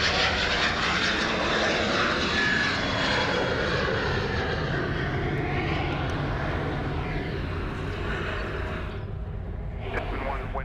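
A Velocity aircraft lands on runway 34 right at Sydney Airport, its engine roar loud and sustained, sweeping in pitch as it passes and fading slightly toward the end.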